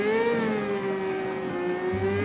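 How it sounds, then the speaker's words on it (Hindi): Car engine droning and building speed, a steady motor tone with a slight upward pull and a low rumble entering near the end. "वो अपनी कार की स्पीड बढ़ाता है"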